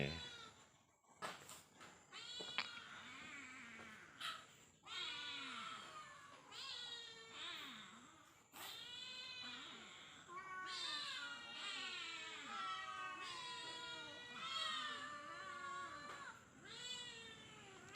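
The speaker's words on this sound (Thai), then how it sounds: "มาดูแมวครับ" Several cats meow repeatedly, close by, their overlapping calls rising and falling throughout with a few brief clattering noises.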